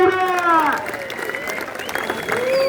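A crowd at a wrestling bout in Lohgaon, Pune, claps loudly and continuously while voices shout and call out over the applause.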